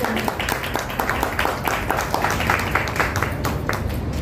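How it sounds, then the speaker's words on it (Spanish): An audience claps for Guatemalan Olympic medalist Adriana Ruano at a car presentation, a steady mid-level patter of many hands with a low rumble of crowd noise beneath, no voices standing out. "un fuerte aplauso para ti"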